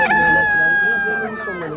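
A rooster crows at a poultry market, one long loud drawn-out call that holds steady before trailing off, close and clear above faint background market noise.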